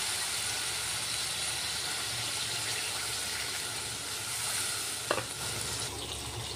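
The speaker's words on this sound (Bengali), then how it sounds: "দেখো জল দিয়ে দিয়েছি" Water poured onto spice paste frying in a pan, giving a loud continuous hissing sizzle with steam that holds steady throughout, one brief clink near the end, no voices.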